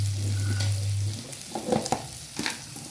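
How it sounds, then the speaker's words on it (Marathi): Food sautés in a pan with a continuous close sizzle, joined by a low hum early on and a few scraping stirs toward the end. "त्यामध्ये छान असं परतून घ्यायचं."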